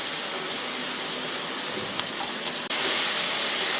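Chicken with ground masala, tomato, turmeric and salt frying in a pan for coconut chicken, giving off a steady close hiss that jumps abruptly louder and brighter near the end.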